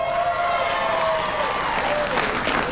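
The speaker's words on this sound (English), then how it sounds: "Give yourselves another big round of applause." A late-night talk show studio audience claps loudly and continuously, a thick wall of applause with some crowd noise and faint tonal music lines running underneath.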